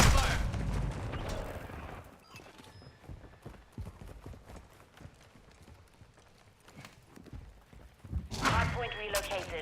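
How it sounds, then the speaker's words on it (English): Incoming gunfire in a combat video game: a stream of sharp, quick cracks, mostly moderate and steady, framed by louder bursts and voices at the start and end. "Taking effective fire."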